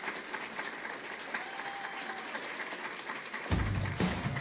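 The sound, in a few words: applause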